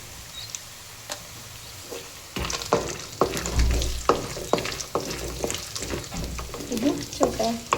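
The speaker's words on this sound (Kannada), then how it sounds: "ಇದು ಸ್ವಲ್ಪ ಸೌಂಡ್ ಮಾಡುತ್ತೆ ಚಟಪಟ ಅಂತ, ಅಲ್ಲಿವರೆಗೂ ಹುರ್ಕೋಬೇಕು. ಈ ಥರ ಫ್ರೈ ಆಗುತ್ತೆ." Ragi poha tempering crackling and frying in a pan, starting faint and then turning into loud, busy spattering pops and stirring scrapes that continue steadily, with no voices.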